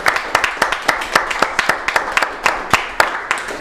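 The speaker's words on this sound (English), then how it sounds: "Let's give ourselves a round of applause." A small audience at an intimate talk-show gathering claps together, the sharp individual hand claps clearly separable and irregular, fairly close and steady for a few seconds with no talking.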